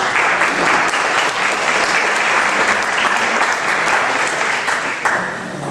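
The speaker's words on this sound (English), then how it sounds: "We have a round of applause for our 10th July School Board candidates." A crowd at an Optimist Club meeting claps for school board candidates in a dense, continuous round of applause, loud and close, fading slightly at the end.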